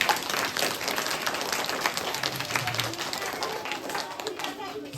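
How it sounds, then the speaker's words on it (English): Audience at a school Independence Day celebration clapping for award winners, a dense, brisk patter of many hands heard from a distance, with a faint murmur of voices mixed underneath. "Please clap for them."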